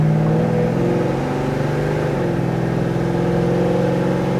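A 1968 Chevrolet Chevelle engine pulls hard under acceleration, its pitch climbing and then dropping as the automatic transmission shifts to the next gear, loud and close, with no voices.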